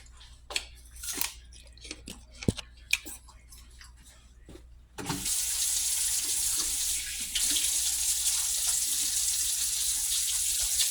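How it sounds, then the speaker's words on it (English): A kitchen tap is turned on to wash hands: after several sharp clicks and knocks of cutting, water starts running loud and steady into the sink and continues to the end. "I wash my hands."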